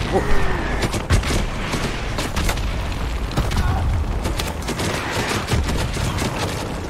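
Dense gunfire in a Call of Duty: Modern Warfare 2 Remastered combat mission: rapid rattling shots and heavy booms fill the whole stretch at steady loudness, with faint radio-style voices mixed beneath.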